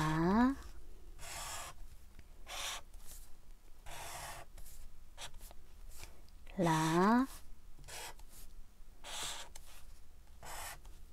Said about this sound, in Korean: 자, 천천히 써볼게요.